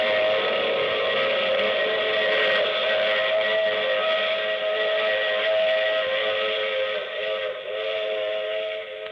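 A steam train whistle in a radio drama sounds loud and close, one long sustained blast holding steady for several seconds with a faint rumble of the train beneath and no voices.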